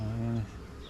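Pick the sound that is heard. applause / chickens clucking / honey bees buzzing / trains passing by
honey bees buzzing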